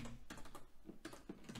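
Rapid typing on a computer keyboard while entering a command-line path, a quick run of close, light key clicks in uneven bursts with short pauses between.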